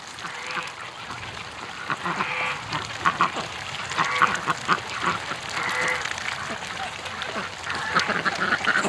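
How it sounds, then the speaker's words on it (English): Ducks quack repeatedly and busily close by while splashing and playing in water running from a garden hose left on, a steady chorus of overlapping calls. "The ducks have been playing in the water"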